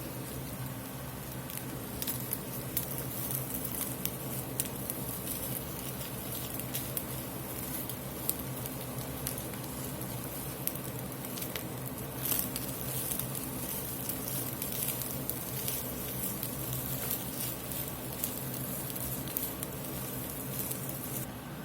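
Two beaten eggs sizzling in a hot pan for crab fried rice, a steady, even crackle and patter of frying that carries on unbroken throughout, close and moderately loud with no talking.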